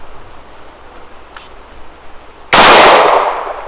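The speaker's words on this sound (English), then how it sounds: "And I have 1 shot left. I'm going to try for the 10," A single loud, sharp shot from a CZ P-10 M pistol at an outdoor range, aimed at a 50-yard target, bursting out suddenly after a quiet stretch and decaying over about a second.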